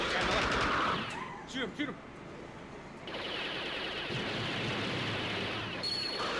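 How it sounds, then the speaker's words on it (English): Rapid bursts of video game gunfire crackle loudly for several seconds, with a brief lull partway through before the shooting picks up again over excited talk. "Shoot him, shoot him."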